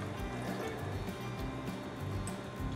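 Water pours into a pan for sugar syrup, measured out to go with a cup of sugar for a tawa kunafe, a soft continuous liquid splashing and trickling close by, with no talking.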